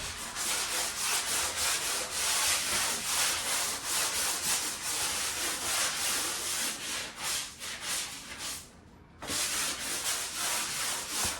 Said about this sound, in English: so that is my sanding there